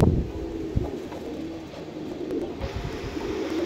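Rooftop champion pigeons in Jhelum give soft, low cooing amid a noisy outdoor background, faint and continuous with occasional rustles.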